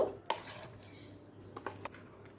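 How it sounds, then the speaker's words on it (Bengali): Fried paneer is mixed into mustard-poppy paste in a bowl, a few soft scrapes and clinks of a spoon against the dish, quiet and close with pauses between strokes. "পনিরটা সর্ষে পোস্তর সাথে ভালো করে মিশিয়ে নেব"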